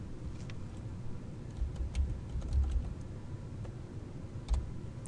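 Typing on a computer keyboard: faint, scattered keystroke clicks at an uneven pace over a quiet room hum, with no voice.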